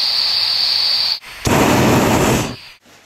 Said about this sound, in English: Burners made by Balloon Sport Bolling. It operates an LPG solenoid and gives us our pilot light.